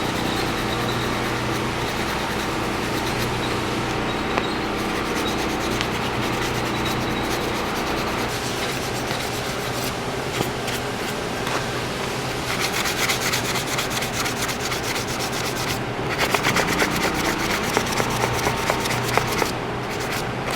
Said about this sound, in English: you can just grab some 600 or 400 sandpaper and smooth it